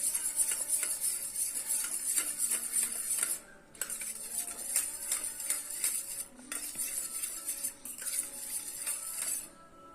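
Onion juice is mixed in a bowl with a spoon, quick clinking scrapes in steady bursts with two short pauses, close and clear with no talking.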